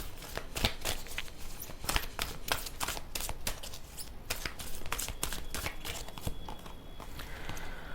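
Tarot cards are shuffled and drawn by hand, a close, continuous run of rapid riffling flicks and papery slaps that never pauses, with no voice over it.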